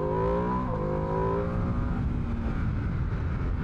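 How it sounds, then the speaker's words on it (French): A Ducati motorcycle accelerates hard to warm its tyres, the engine note rising in quick steps through the gears before settling into a loud sustained roar, with no one talking. "On fait des accélérations très franches et après on freine."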